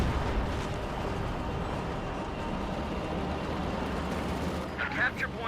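Soviet artillery barrage in the Company of Heroes 2 battle game, a dense, continuous rumble of distant explosions and gunfire lasting several seconds, heard under a commentator's voice.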